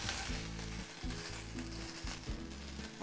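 Chicken pieces sizzle loudly in a hot frying pan, a steady dense crackle broken by three short dips as the food is stirred or turned, close and alone with no talking.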